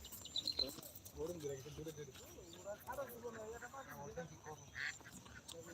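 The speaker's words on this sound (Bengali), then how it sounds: "দেখেন হাঁসগুলো সাঁতার কাটতেছে" Ducks quack on water where swimming birds move across a flooded spot, short calls scattered among voices talking close by.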